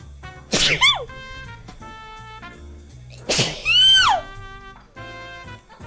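Two sharp sneezes burst out about three seconds apart, each with a sudden noisy onset and a squeaky vocal tail, loud and close over a quiet, steady tonal background.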